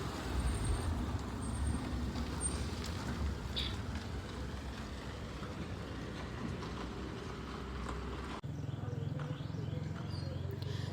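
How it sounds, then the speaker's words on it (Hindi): Roadside traffic rumbles steadily as vehicles pass on a busy road, a continuous low roar with occasional horn-like tones, heard while someone waits at the roadside. "मैं रोड साइड हूँ, तो बीच में गाड़ियाँ आ रही हैं, तो नॉइस भी हो रहा है"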